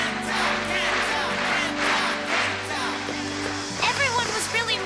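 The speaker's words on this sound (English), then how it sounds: "Everyone is cheering for you." A crowd roars and cheers continuously at a Beyblade battle in an anime, with a voice shouting over the noise near the end.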